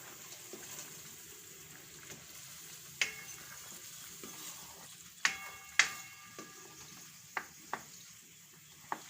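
A soybean curry is stirred in a pressure cooker, with a spoon tapping and scraping the metal pot in scattered sharp clicks over a soft, faint simmer.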